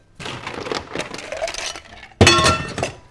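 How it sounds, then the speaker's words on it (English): Ice is dropped into a shaker for an amaretto sour made with lemon juice, sugar syrup and egg white: a rattle of cubes tumbling in, then a loud, bright clattering crash of ice against the tin, close and with no talking. "Add ice."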